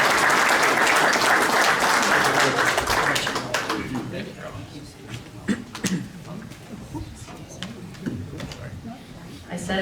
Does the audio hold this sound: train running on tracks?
no